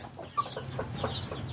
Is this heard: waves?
no